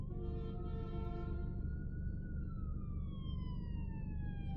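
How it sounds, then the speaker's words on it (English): Ambulance siren with a wailing multi-tone pitch that drops as the vehicle passes, moderately loud over steady traffic rumble with no talking. "I be thinking that that was an ambulance."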